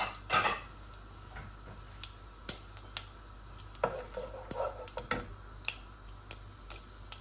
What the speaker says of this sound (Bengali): এই যে আমার এগুলা গরম মশলাগুলা ভাজা ভাজা হয়ে গেছে